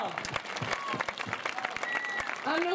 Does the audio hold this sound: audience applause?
yes